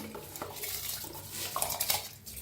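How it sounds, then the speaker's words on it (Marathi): A spoon scrapes and clinks against a metal pot while stirring washed rice, a short burst close by, with wet shuffling between the knocks. "थोडंसं असं चमच्याने हलवून घेऊया"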